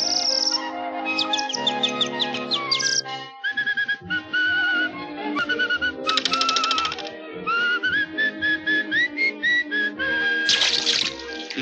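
Whistling in a 1946 Noveltoons cartoon, bright melodic phrases with chirpy birdlike trills over orchestral music, with rapid staccato tapping in places and no talking.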